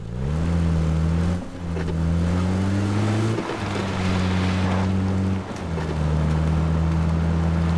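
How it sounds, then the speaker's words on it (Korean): A car engine in PUBG (Battlegrounds) droning steadily, its pitch shifting with gear changes and brief dips while it drives, with rushing wind noise over it. "저기 뭐야 발전기 송신탑 쪽 차 소리 난 것 같은데"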